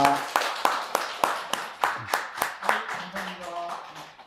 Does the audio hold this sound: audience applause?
yes